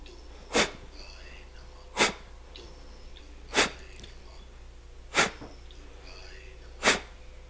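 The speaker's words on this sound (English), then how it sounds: "we will do this routine called Kapalbhati, expelling air from this thing" Five sharp, forceful nasal exhalations spaced evenly about every one and a half seconds, each a brief hissing burst over a quiet background.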